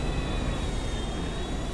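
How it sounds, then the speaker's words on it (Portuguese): Airplane engines roar loudly and steadily in GTA 5, a broad continuous drone with a whining high tone running throughout. "tá barulhento esse avião"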